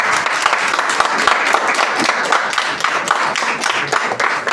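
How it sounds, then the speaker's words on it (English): An audience at a comedy performance claps and applauds steadily, a dense wash of hand claps close by with crowd noise mixed in, sustained without a break. "One more round of applause for the one and only Andrew Fehrenbach."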